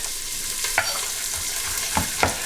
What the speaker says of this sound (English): we can saute off our onions. And we're just going to add a little bit of chopped garlic as well